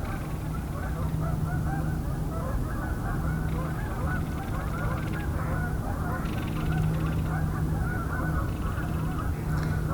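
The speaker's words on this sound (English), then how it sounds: "So that was about 300 Canada geese coming in." A large flock of Canada geese honks continuously, a dense, overlapping chorus of calls that sounds distant yet loud, filling the whole stretch without pause.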